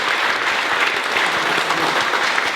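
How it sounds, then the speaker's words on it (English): Dense, steady applause from an audience at a university grand opening ceremony fills the whole stretch, loud and close with no voices over it. "So how about a big round of applause for all the staff"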